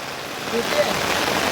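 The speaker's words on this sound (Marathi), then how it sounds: "पाऊस जोरात आलाय" Heavy rain pours down in a steady, dense hiss that fills the whole clip, with a faint voice briefly audible beneath it.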